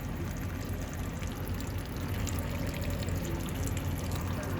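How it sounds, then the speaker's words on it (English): Fluid pours and splashes steadily from a 1958 Mack B-21 fire truck that has sat for 30 years, a continuous close trickling wash with no talk over it. "It is leaking something."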